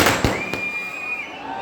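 Fireworks go off at a Ravan effigy burning held by the Ram Sevak Sabha: two sharp cracks, then a long whistling rocket that trails away, fairly close.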